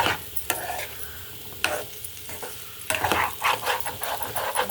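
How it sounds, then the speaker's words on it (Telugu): Vegetables frying in oil in a non-stick pan, a steady moderate sizzle broken by spatula scrapes and stirring clicks, close by and without talk. "ఇలా వేయించేసి ఆ కూరలో వేస్తే బాగుంటుంది. మంచి కలర్ వచ్చే వరకు వేయించాలి."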